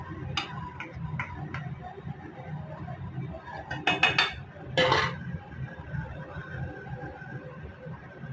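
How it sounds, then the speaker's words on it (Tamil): Cut mushrooms go into a pan for mushroom gravy and are mixed with a utensil, giving light ticks and clinks followed by a few louder scraping clatters, close by, over low background noise. "நல்லா மிக்ஸ் பண்ணிட்டு நம்ம கட் பண்ணி வச்சிருக்கிற மஷ்ரூம் வந்து போடலாம்."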